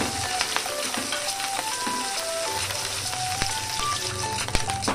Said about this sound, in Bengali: তেলটা হিট হয়ে আসলে এর মধ্যে চিংড়িগুলোকে আমি ভেজে নেব।